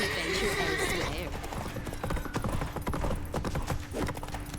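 Roach, the horse in The Witcher 3, gallops with rapid rhythmic hoofbeats and a loud whinny near the start, set against game music and a voice.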